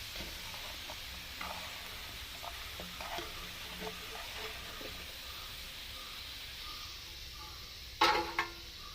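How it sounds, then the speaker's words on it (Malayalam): Prawns fry in hot oil with a continuous soft sizzle and crackle while a spoon scoops them out, giving light scraping clinks and a sharper metallic clatter near the end. "ഇതെല്ലാം നന്നായിട്ട് ഫ്രൈ ആയിട്ടുണ്ട്. ഇത് നമുക്ക് കോരിയൊരു സ്റ്റെയിനറിലേക്ക് ഇടാം."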